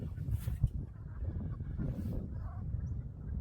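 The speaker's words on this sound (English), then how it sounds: "I can hear a gaggle of geese. They're having a right set to." A gaggle of geese honks somewhere off in the distance near Saltfleet, with faint, irregular calls sounding over a low, rumbling outdoor background.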